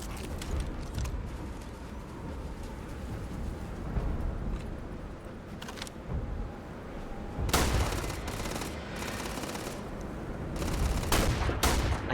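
Rapid, loud gunfire rattles through a battle in the video game Starfield, with dense bursts and heavier volleys near the middle and end, and no voices.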